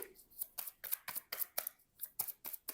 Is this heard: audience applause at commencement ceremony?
no